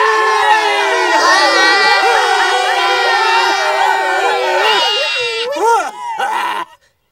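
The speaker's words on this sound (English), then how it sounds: "the priests blew one long blast and then all the people yelled" A cartoon crowd of people yells together in a long, loud, overlapping chorus of high shouting voices that holds for several seconds, then breaks into a few final whoops before cutting off.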